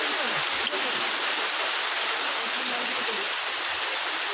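Heavy rain pouring down in Hyderabad, a loud continuous broadband hiss of rainfall with no break, close and dense.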